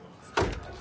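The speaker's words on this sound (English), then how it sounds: "You might not be able to hear it, but you can hear the latch on" A single short click of the electronic lock latch engaging on the door of a 2025 Wingamm Oasi 540.1 mini Class B RV, brief and fairly quiet against a soft background.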